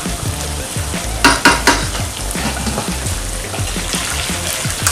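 Tomatoes simmering with added stock in a pot for Ghanaian jollof rice, giving a continuous bubbling sizzle with a few sharper clanks or stirs in the middle, close and fairly loud with no talk.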